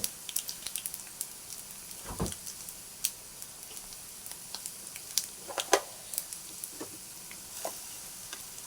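Tempering spices for stuffed bitter gourd fry in hot oil, crackling and popping in scattered sharp bursts over a faint, quiet sizzle.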